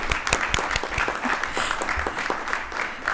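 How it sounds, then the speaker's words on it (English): A council meeting audience gives a short round of applause, with sparse, uneven hand claps close by and a light murmur under them. "let's give Ms. Chan Weeks a hand"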